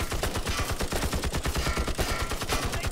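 Rapid, loud machine-gun bursts rattle without a break in Call of Cthulhu, with each shot dense and evenly spaced in a close, sustained volley.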